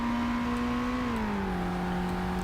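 A cold car engine revs in the driving game BeamNG Drive, a steady droning hum that dips to a lower pitch midway and continues, loud and alone without talk.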